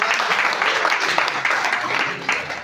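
Audience applause at a Hindi-language gathering: steady, dense clapping that fills the whole stretch at moderate loudness, with a voice briefly audible underneath.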